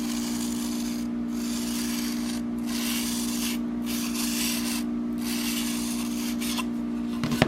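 Broadhead edge stroked on an 800 grit sharpening stone: steady rasping swipes in a regular back-and-forth rhythm, about five strokes with brief pauses, close up over a constant low hum, without voices.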